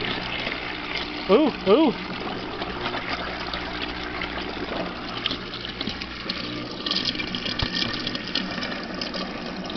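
Water rushes and gurgles steadily through an old pool's pump as it primes, with a low churning rumble throughout and a couple of brief vocal exclamations near the start.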